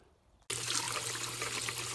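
Running water rinsing rusty tools starts abruptly after a short quiet moment, then a steady close splashing trickle continues to the end.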